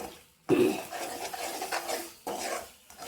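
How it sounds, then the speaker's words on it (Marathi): Homemade black masala, chili powder, turmeric and coriander powder being stirred in a pan, with a spoon scraping and rubbing the spices in two close, soft passes and a brief pause between them. "हा मसाला असं छान परतून घ्यायचा"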